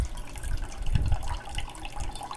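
Water is poured off soaked rice being drained for chicken biryani, a steady splashing pour that swells and eases over a couple of seconds.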